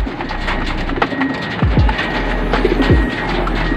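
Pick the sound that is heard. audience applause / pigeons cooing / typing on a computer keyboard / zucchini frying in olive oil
pigeons cooing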